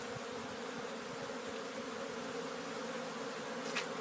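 Honey bees on a cleansing flight outside the hive, a continuous dense buzzing drone of many insects, steady and even throughout with no voices.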